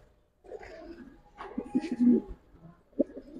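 Giribaz pigeons, a special black-throated pair, coo close by in a few soft, throaty bursts separated by short pauses, with some faint rustling between calls.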